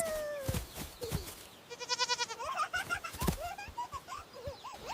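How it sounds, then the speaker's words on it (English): Baby goats bleating in several quavering, repeated calls, close and fairly loud, with rustling movement and other small animal noises mixed in. "Baby goats."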